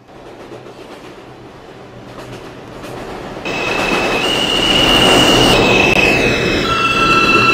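A New York subway train, a Manhattan-bound 6, rolls through with a steady rumble that swells louder midway, joined by high sustained wheel squeals and tonal whines as it nears, close and continuous with no talk.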